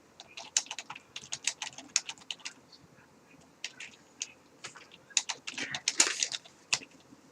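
Rapid bursts of typing on a computer keyboard, close and crisp, with irregular clusters of clacking keystrokes and brief pauses between runs, growing busier toward the end; no talking.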